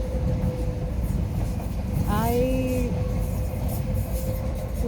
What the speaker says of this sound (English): Oh, it's the train again. It's gonna be this noise all the time now.